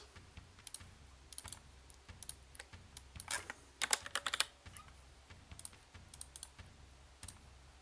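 Rapid, fairly quiet clatter of computer keyboard keys as players type before a Hellish Quart tournament fight, with irregular bursts of clicks and one busier flurry in the middle, close and without speech.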